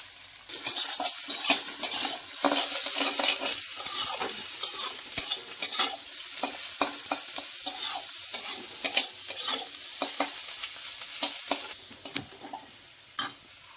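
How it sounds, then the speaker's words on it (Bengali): Chopped ginger, garlic, onion and chili sizzle and crackle in hot oil while a utensil stirs and scrapes the pan in irregular bursts, close and fairly loud. "আদা রসুন পেঁয়াজ লঙ্কা কুচি ভাজা হয়ে গেছে ভেজে নিয়েছি"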